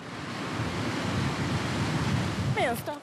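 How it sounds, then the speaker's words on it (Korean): Ocean waves wash steadily onto a seaside beach, a continuous broadband surf roar with wind buffeting the microphone, while faint voices of children enter near the end. "주말을 맞아 집 근처 바닷가를 찾은 삼남매."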